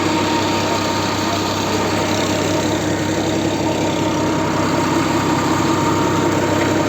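A 66 kVA tail-shaft generator drones loudly and evenly at a constant idle, a close, vibrating hum that holds steady the whole time.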